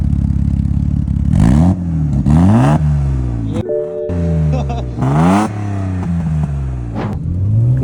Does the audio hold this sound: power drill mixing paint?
no